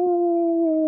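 A man imitates a hound dog's howl with a single sustained, steady, loud vocal tone lasting under a second.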